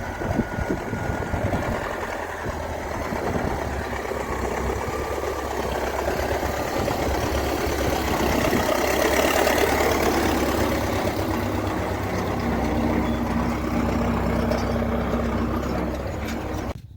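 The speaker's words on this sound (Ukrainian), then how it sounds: "тракторець справився на відмінно." A small engine runs steadily, a chugging mechanical drone that holds a fairly constant pace with a slight swell in the middle.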